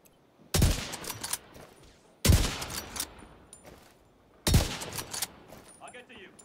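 Gunfire from The Division 2 video game during a co-op Capitol Building mission, three separate loud bursts of rapid shooting spaced a couple of seconds apart, each trailing off into echoing reverberation.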